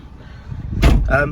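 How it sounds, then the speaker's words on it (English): The door of a Peugeot 207 CC 1.6 16v GT convertible shuts with a single solid thump, close and loud, followed by a brief rattle, heard from inside the car. "I'm going to shut the door."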